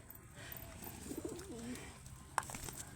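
Pigeons coo in soft, rolling phrases close by, a few low bubbling calls over a faint background, with a brief sharp knock near the end, as the birds are fed a grain mix of millet, maize, wheat and mustard seed.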